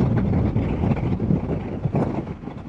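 Royal Enfield Interceptor 650 at around 140 km/h, heard as a loud, steady rush of wind buffeting the microphone over a low engine drone, continuous throughout with no talking.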